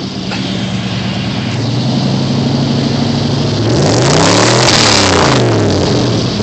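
A 1986 Chevy K10 pickup with a three-speed and new exhaust revs hard and close. The engine roars steadily, then climbs and sweeps through rising and falling pitch before settling.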